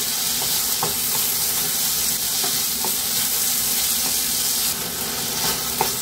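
Bottle gourd cooks in a pan over medium heat, giving a steady hissing sizzle with occasional soft taps and clicks from stirring, close and uninterrupted by speech.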